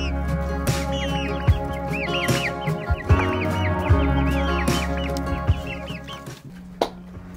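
Chickens cluck and chatter continuously in a desert backyard coop, a flock of hens giving repeated overlapping calls close by over a low steady background hum, with a few sharp knocks.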